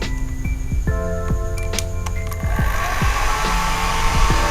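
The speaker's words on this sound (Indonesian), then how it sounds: "Oke, saya coba jalankan hair dryernya." A hair dryer switched on and aimed at a temperature sensor in an Arduino IoT monitoring setup, giving a loud, steady whirring blow that rises in pitch as the motor spins up.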